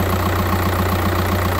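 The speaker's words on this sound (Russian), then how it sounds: "Завел мотор этот" A 1.9 CDTI diesel in an Opel Vectra C wagon idles just after starting, a loud close steady rumble with an even rhythmic diesel clatter and a constant low hum, with no voices.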